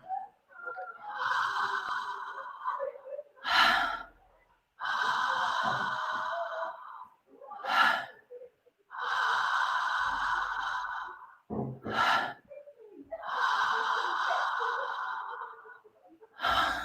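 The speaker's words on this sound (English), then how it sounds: "allowing your belly to be open and easy with every inhale, and just relaxing and letting go with every exhale" Slow, deep breathing in a transformational breath exercise: long airy inhales alternate with short, sharper exhales in a steady repeating rhythm, close and soft, with no talking.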